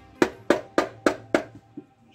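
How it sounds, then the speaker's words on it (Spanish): A small hammer taps on the casing of a 110cc motorcycle engine to open it: five evenly spaced, sharp metallic knocks, close and fairly loud, then two softer taps as the blows trail off. "Martillito."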